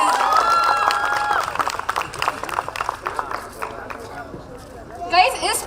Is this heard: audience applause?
yes